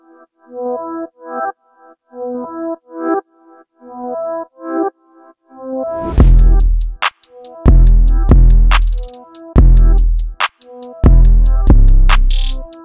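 A melody shaped by a Gross Beat volume curve starts with short chopped, pulsing synth chords like sidechain gating. It then turns into loud, punchy repeated bursts with deep low-end hits and bright transients, all instrumental.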